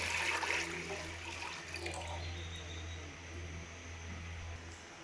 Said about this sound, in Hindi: अब इसमें हम तकरीबन 2 लीटर पानी ऐड कर लेते हैं पहले